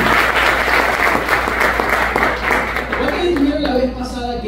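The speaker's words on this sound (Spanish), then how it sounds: "Dale un fuerte aplauso al rey." Church congregation gives a loud burst of applause, close and busy clapping for several seconds, fading as a voice rises near the end.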